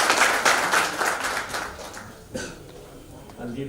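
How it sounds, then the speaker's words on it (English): Audience applause at a professional talk in Kolkata, dense clapping that is loudest at the start and fades over a few seconds, with a voice speaking over it. "A big round of applause for it."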